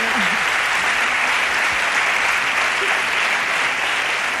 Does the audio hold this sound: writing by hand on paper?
no